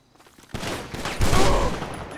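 Double-barrel shotgun blasts in GTA Online, two sharp booming reports about half a second apart, the second heavier with a rumbling tail, loud and close with no talk.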